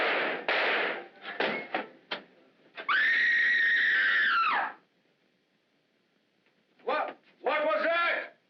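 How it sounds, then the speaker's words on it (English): A woman's long, shrill scream rings out in the 1945 film The Great Flamarion, sustained for nearly two seconds between stretches of tense, clipped dialogue before falling into silence. "Who screamed?"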